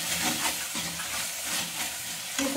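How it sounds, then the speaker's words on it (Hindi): Masala roasting in a pan for a besan curry, giving a dense, continuous sizzle and hiss at moderate loudness, with faint stirring beneath and no one speaking. "इधर मेरा मसाला भी भुन रहा है"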